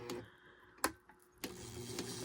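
A Domestic 302L left-shank sewing machine runs forward and then in reverse, giving a low steady mechanical whir with a couple of sharp clicks and knocks partway through. It stays close and moderately loud throughout.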